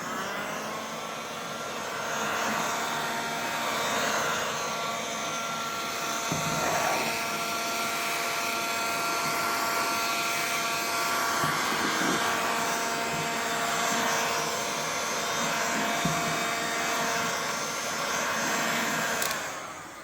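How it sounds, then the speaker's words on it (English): A heat gun warms a Mercedes-Benz C-Class W204 halogen headlight, giving a steady, close, high motorized whine with a blowing rush that holds almost unchanged for the whole span and is heard alone. "I will use a heat gun."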